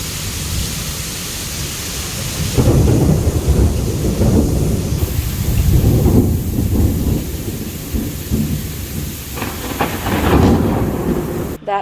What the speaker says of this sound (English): I made it home just in time for a really awesome storm